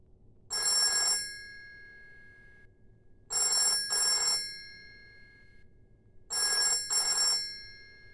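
A telephone rings on redial through a faulty NBN NTD network device: three ring cycles, each a sharp double burst of bright electronic tone separated by pauses, clear and close with no talk.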